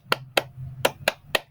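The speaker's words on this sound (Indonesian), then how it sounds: "Marilah anak-anak semua kita melakukan tepuk An-Nas." Five sharp hand claps in a steady rhythm, close and fairly loud, with a low hum underneath between the claps.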